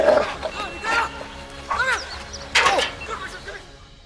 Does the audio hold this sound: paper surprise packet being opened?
no